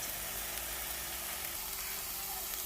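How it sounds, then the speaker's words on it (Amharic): Onions and garlic frying in oil in a pan give off a quiet, steady sizzle that holds evenly throughout with no talk. "ነጭ ሽንኩርቱን አብሬ ጠብሰዋለሁ።"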